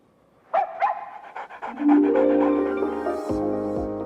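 A dog in a Pedigree dog food advert gives two short barks, then pants and whimpers as a soft music bed swells underneath, close and clear.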